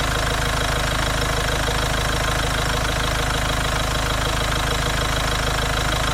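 Steady cabin drone of a Hyundai Santa Fe 2.0 diesel AWD idling while stationary, a continuous low engine rumble with faint knock, unbroken and even throughout, with no talking.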